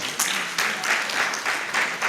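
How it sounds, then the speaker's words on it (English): Audience applause at a book review event, a steady wash of clapping from the room that swells in several surges over about two seconds, fairly close and loud, with no one speaking over it. "A round of applause."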